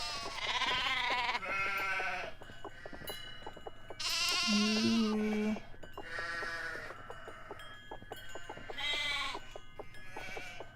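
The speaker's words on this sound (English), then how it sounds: "We are never losing that sheep again." Repeated sheep bleats from Nancy Drew: The Haunting of Castle Malloy, about five wavering calls spaced across the stretch, clear and moderately close with no talking.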